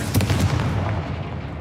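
Confringo blasting spell from Hogwarts Legacy, a single loud close explosive burst with a deep thumping body that rumbles and fades over a second and a half.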